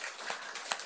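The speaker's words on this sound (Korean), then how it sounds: "박수로 주님 앞에 영광을 올려드리겠습니다" Congregation clapping together at a midnight New Year's service in a Korean church, a dense, steady wash of many hands with a couple of sharper bursts, fairly far and diffuse.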